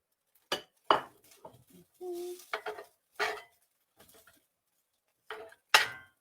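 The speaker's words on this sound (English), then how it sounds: "What I'm doing is I'm just sort of chopping it up with the tip of my spatula." Spatula tip chopping fake chicken in a pan, giving several sharp metallic scrapes and clinks in irregular bursts, fairly close and moderately loud, with brief quiet gaps between strokes.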